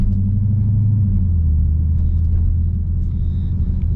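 Steady, loud low rumble of a Dodge Challenger Hellcat engine cruising on the road from inside the cabin, an even drone without revving for the whole stretch.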